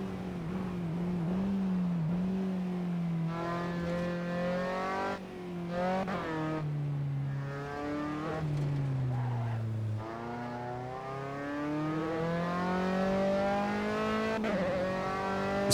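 Race car engine from Assetto Corsa on the world's highest track, loud and continuous, rising and falling through gear changes with sharp upshifts and a few brief tire squeals and scrapes; no talking.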